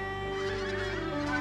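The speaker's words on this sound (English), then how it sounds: "Wintering geese feed on local farmland and estuaries." Wintering geese on farmland or estuaries along the coast of northeast Scotland give a short run of close, honking calls that fill the whole brief stretch, with no talk over them.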